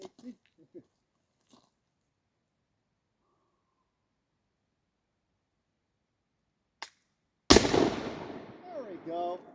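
A model gun fires a cap shot at balsa, one sudden loud crack followed by a rattling, decaying tail, after a long near-silent pause broken only by faint clicks.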